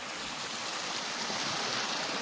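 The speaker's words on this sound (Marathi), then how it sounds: "सर्व डोंगराचं पाणी जे आहे ते खाली उतरलेलं आहे इकडे आणि ते नदीला भेटत आहे" Continuous broadband rushing of a river swollen by the first monsoon rain in Konkan, Maharashtra, with hill runoff flowing in, steady and close, with no voices.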